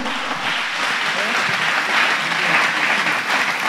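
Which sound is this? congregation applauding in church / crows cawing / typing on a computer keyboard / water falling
congregation applauding in church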